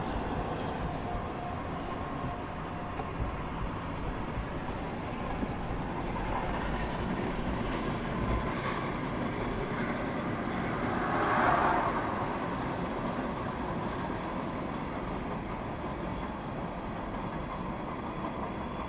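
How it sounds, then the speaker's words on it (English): A pair of SD40-2 diesel locomotives rolls past in a steady, heavy rumble with rail clatter. The sound builds slightly near the middle and stays loud and continuous throughout. "Pair of SD40-2s,"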